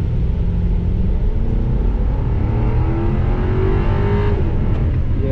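A 2005 Cadillac XLR on a test drive gives a steady, deep engine and road rumble from inside the car, with a slight rise in revs near the end and no speech.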